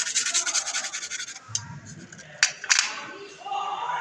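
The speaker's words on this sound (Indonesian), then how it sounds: "kampas remnya menggunakan amplas" Brake pads being sanded with sandpaper: rapid, repeated scratchy rubbing strokes, close and rhythmic, then a pause with a low voice and a couple of sharp knocks before more rubbing resumes.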